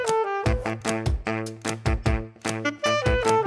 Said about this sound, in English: You can hear how deep and bassy that sound is on the bass saxophone